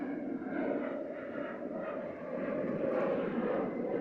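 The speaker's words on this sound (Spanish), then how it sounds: "Aquí me puedo entretener viendo aviones" A fixed-wing airplane passes overhead near a small beach seen from a little inflatable boat, its engine a steady, moderately loud drone that swells slightly toward the end, with no talking.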